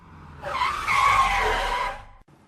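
A car brakes hard and its tyres skid along the road in one long rising and falling screech lasting over a second, loud and close, ending abruptly, with no voices.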